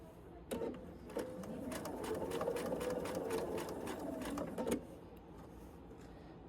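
Sewing machine running steadily for about four seconds as it stitches back over curved quilting lines on a quilted bowl filler, at a slow, even pace, with brief starts and stops at each end.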